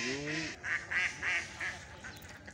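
Ducks on a duck farm quack in a quick run of four or five calls, fairly close, over a low background hum.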